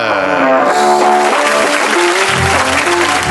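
An award ceremony audience applauds loudly and continuously as an award winner comes to the stage, with music playing prominently over the clapping.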